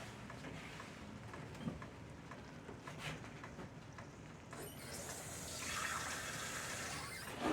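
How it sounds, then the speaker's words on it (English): A little water is poured into tomato gravy on a kitchen stove, heard faintly as a soft splashing pour that swells in the last few seconds, with quiet clattering before it. "I'm going to put just a little bit more water in it."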